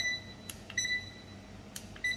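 A wooden digital desk clock with red LEDs gives short, high electronic alarm beeps in small bursts, quiet and close, with a couple of soft clicks between.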